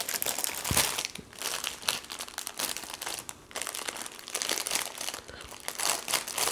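Plastic packaging of journal supplies crinkled close up during an unboxing, with dense, irregular crackling bursts and rustles that rise and fall throughout.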